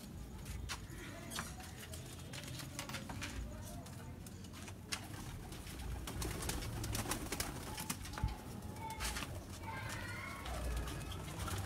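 Breeder pigeons coo softly at a distance among scattered chirps and rustling, with faint background noise and occasional knocks, low in level throughout.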